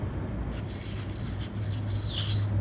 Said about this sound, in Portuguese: só o passarinho mesmo da Maria Teixeira